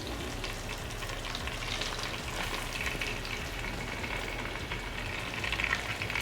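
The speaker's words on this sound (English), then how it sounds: "So now we'll put our chicken in." Chicken fries in a pan of butter, bacon fat and avocado oil, giving a steady close sizzle and crackle that carries on without talk.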